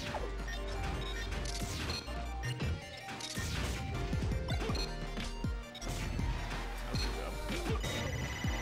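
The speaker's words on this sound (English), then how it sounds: "I heard lots of ringing." A Super Smash Bros match with Mr. Game & Watch attacking, full of dense bell-like ringing, crashes and thwacks layered over continuous game music.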